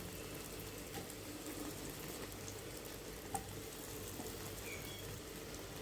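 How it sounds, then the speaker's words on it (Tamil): Bread slices fry in ghee in a kadai, giving a steady soft sizzle and crackle with a faint sharp pop now and then, close and even throughout with no voices. "அதை லேசாக கோல்டன் ப்ரௌன் வர்ற வரைக்கும் ஃப்ரை பண்ணி எடுத்துக்கலாம்"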